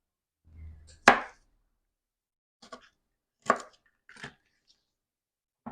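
A knife chops peppers into bite-sized pieces on a board: a few separate, sharp chops with quiet gaps between them, one loud strike early and then lighter cuts, heard close and alone.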